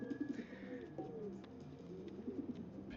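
Pigeons in a video game coo in soft repeated phrases near a green bin, close and steady over a low ambient hum, with no voices.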